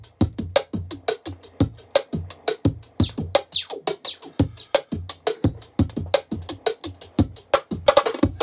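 A lo-fi beat built from textured layers over a dry drum kit, with steady punchy hits repeating in a tight rhythm, close and loud throughout, with no voices.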